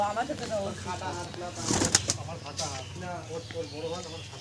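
Pigeons coo in repeated soft, rolling calls at close range, mixed with a brief flutter, while people talk over them.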